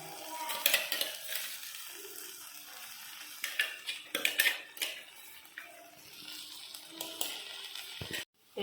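Ginger, garlic, shallots, green chilli and tomato being sautéed in a pan for a spicy mutton gravy: close, irregular spatula scrapes and metallic clinks over a soft, steady sizzle, with no voices.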